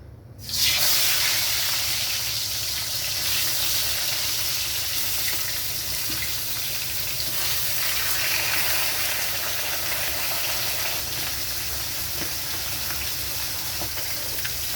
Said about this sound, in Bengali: তেল গরম হয়ে গেছে, আমি মাছগুলো ভেজে নেব।